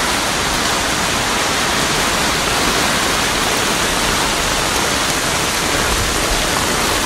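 Heavy, steady rain patters on an umbrella in an empty street in Japan, a dense, loud, unbroken hiss with no voices.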